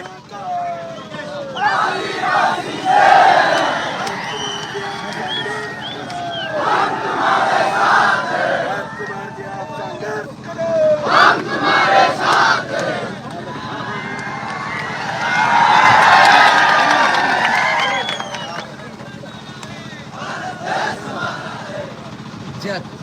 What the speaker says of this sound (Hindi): जोरदार तालियों के साथ स्वागत साहब।